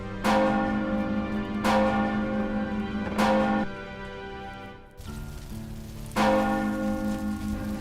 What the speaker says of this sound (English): The town bells!